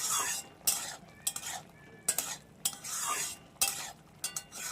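Chicken with garam masala and a green chili being stirred in a hot pan, with repeated scraping strokes of a spoon against the metal over a steady sizzle, in bursts with short pauses between.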